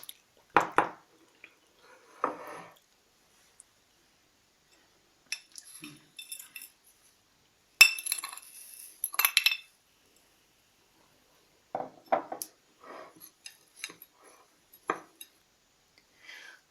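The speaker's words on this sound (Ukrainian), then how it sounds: "Тепер арахіс наш змелений перемішуємо е, з сухарями." Ground peanuts and breadcrumbs stirred together in a bowl, scattered short scraping and clinking sounds of a utensil against the bowl with quiet pauses between, close and fairly soft.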